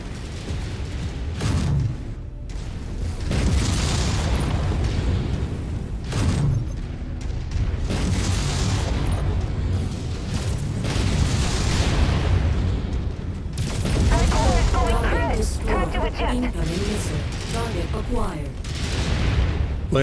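Missile fire explosions in MechWarrior 5, repeated heavy booms and rumbling impacts over roughly twenty seconds, mixed with mechanical clanks and bursts of radio-style talk.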